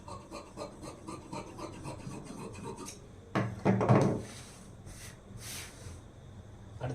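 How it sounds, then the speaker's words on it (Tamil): Scissors cut through cloth for sewing with a close, repeated rasping snip and a louder burst of crisp shearing partway through, and no talk. "இப்போ மெயின் கிளாத் எப்படி கட் பண்ண பார்க்கலாம்."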